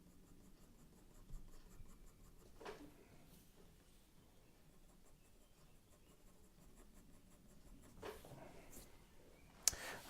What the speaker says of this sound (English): I'm going to use my 2B pencil now, and I'm just going to start pulling out some of these shapes